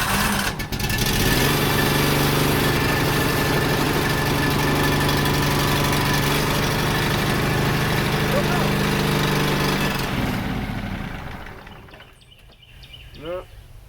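The engine of a 1998 Yazoo YTKC22 three-wheel mower runs loud and rough for about ten seconds, then winds down and fades, leaving a few faint clinks.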